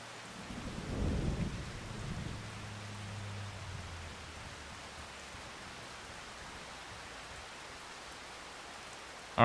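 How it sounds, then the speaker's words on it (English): Rain falling in the Farming Simulator 25 video game, with a low thunder rumble rolling in early before settling into a steady, even hiss of rainfall. "it's going to continue to rain the entire time"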